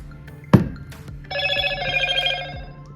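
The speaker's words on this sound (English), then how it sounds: "Excuse that phone." A telephone rings in a home kitchen while a sweet potato pie is being made, preceded by a sharp knock, then a sustained electronic bell ring of about a second and a half.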